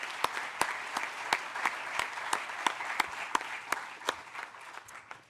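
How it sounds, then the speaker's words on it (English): Applause at a groundbreaking for a children's hospital in Wesley Chapel comes as sparse, distinct claps from a small crowd, spaced almost evenly and close by. "Let's give them a round of applause as well."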